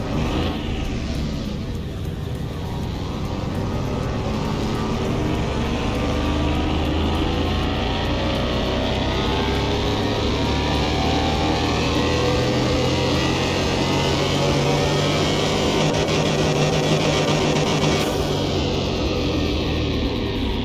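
Simulated car engine in Car Mechanic Simulator 21 holds a loud, steady high rev on a dyno, a continuous droning roar with little change for the whole stretch.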